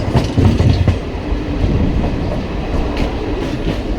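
A train departing Krishnamakona rumbles along with rhythmic clickety-clack from the wheels on the rails, loud and close, a steady roar throughout with no voices.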